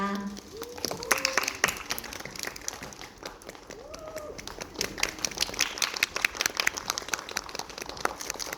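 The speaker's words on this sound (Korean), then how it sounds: "박수와 함성을 한번 부탁드려요" Audience applause and cheers at a post-performance talk as the writer and actors come onto the stage, with crisp claps thickening over time and voices and shouts mixed in.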